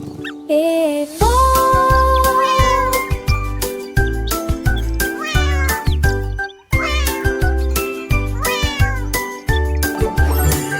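A cat meows several times in rising and falling cries set against a bouncy children's song with a strong thumping beat and bright jingles.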